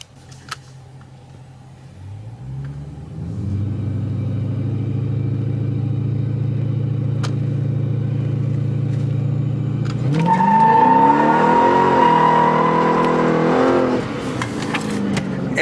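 A Dodge Challenger 1320 Scat Pack idles, then launches with a loud sustained engine roar that climbs in pitch as the wheels spin, then eases off near the end, close and without talk.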